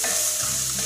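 Millet vermicelli with soy sauce and seasoning is sautéed in a pan, giving a brief, close sizzle with a stirring scrape and no voices.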